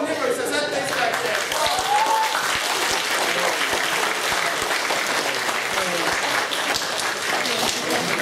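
Theatre audience applauding during a Slovak stage play, a sustained full wash of clapping filling the room at a steady loudness with some voices mixed in.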